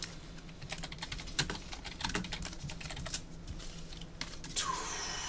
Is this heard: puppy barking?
no